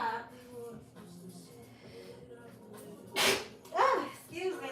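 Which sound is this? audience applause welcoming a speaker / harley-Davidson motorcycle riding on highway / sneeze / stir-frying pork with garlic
sneeze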